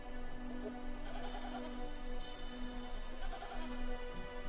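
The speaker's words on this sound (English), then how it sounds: "Two Bedouin shepherds are moving a herd of goats along the cliffs of Qumrun" A herd of goats driven by Bedouin shepherds along desert cliffs at Qumran, east of Jerusalem, bleats repeatedly over a steady, hazy background, faint and without speech.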